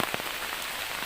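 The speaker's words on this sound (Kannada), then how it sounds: "ಭಯಂಕರ ಮಳೆ ಮಾತ್ರ ಈ ವರ್ಷದ್ದು ನೋಡಿ" Heavy monsoon rain pouring down, a dense, steady hiss of drops drumming on surfaces, close and loud throughout with no voices.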